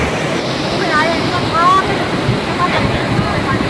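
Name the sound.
Manikaran hot water spring flowing out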